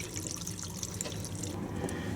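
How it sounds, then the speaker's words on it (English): Grey water with very little residue draining out of an RV black tank during a rinse, a steady continuous rush and splash of liquid running without pause, with no talking. "that is the gray water coming out of the black tank with just a very little residue"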